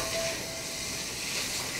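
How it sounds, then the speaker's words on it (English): Bacon frying in olive oil in a pan that isn't nonstick, giving a steady, close sizzle and hiss of spitting fat that holds constant throughout, with no voices over it. "the minute that bacon hit the pan, it was like smoky goodness"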